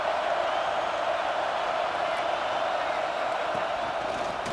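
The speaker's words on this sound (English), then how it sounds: "This crowd full of folks spreading the eardrums and letting them know it's going to be a long day." A large stadium crowd cheering in the video game EA Sports College Football 26, a steady loud roar of massed voices with no breaks, filling the whole moment.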